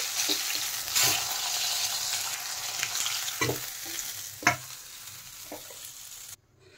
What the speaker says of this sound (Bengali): দেখেন এক সাইড ভালো করে ভাজা হয়ে গেছে।